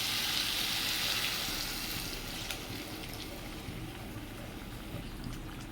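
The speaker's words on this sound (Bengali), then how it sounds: "কচুর তরকারি তো তাই একটু বেশি জলটা দিলাম নাহলে জলটা অনেকটা টেনে যাবে" Water poured into a pot of taro curry: a brief rushing hiss at the start that fades into a softer, steady bubbling.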